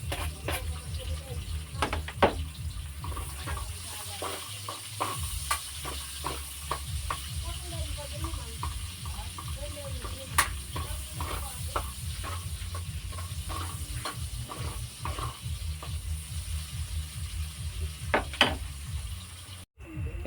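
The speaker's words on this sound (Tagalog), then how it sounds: "Bago tayo gisa natin yung sibuyas" Onion and garlic sauté in a pan with a continuous close sizzle, punctuated by repeated sharp clicks and scrapes of a utensil, while a person talks over the cooking throughout.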